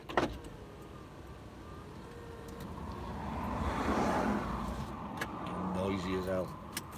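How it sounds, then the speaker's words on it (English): An electric power window on a car winds up with a steady motor whine while traffic rumbles outside and a voice talks nearby. "Just wind my window up a minute"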